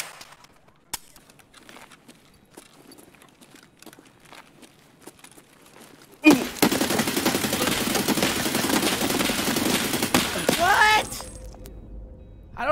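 Loud, sustained burst of automatic gunfire in the first-person shooter Escape from Tarkov erupts after several quiet seconds of faint clicks and footsteps, rattling for about five seconds before cutting off abruptly; voices talk over parts of it.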